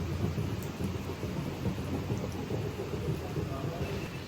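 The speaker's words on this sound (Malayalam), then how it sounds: "ദാ ഇവിടെ ഇപ്പോൾ ദാ മഴ പെയ്യുന്നുണ്ട്" Rain falling at a cottage by an infinity pool in Munnar, a steady faint wash of patter with a low rumbling undertone, continuous throughout with no clear talk.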